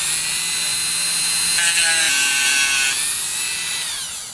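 A rotary tool spinning at about 10,000 RPM grinds down the outer surface of a small X-Wing miniature, a loud, close, continuous high whine that shifts pitch as the bit bears on the piece, then eases off at the end.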